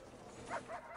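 A dog in the prison-management video game Prison Architect gives two or three short, faint yipping barks in quick succession over a low background hum.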